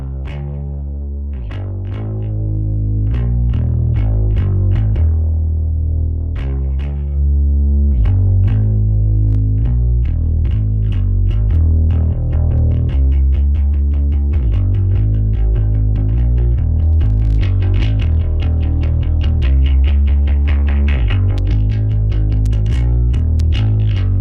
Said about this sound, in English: Let's listen to what this sounds like across a bass track.